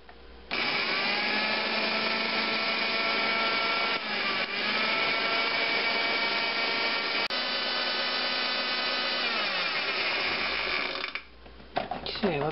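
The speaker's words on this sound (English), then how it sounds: "So as not to overload the food processor and result in incomplete processing." A food processor chops apples for applesauce, a loud close motor whir that starts abruptly, runs steadily for about ten seconds with slight changes in pitch, then spins down and stops.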